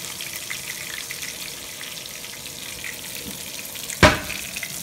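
Soft shell crab frying in a pan for a Cajun po boy gives a steady, close hiss of oil, and a single sharp clunk or splat breaks in near the end.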